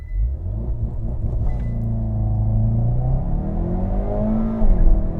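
Hyundai Veloster N with dual-clutch transmission launching down a quarter-mile strip in Mexico, a loud steady engine rumble rising in pitch with abrupt gear shifts, heard close from inside.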